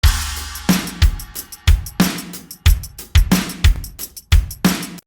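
Programmed drum pattern layered with a live-played tambourine, in a home-produced acoustic guitar track: punchy kicks and snares repeat in a steady groove under bright jingling tambourine shakes, loud and close with no voices.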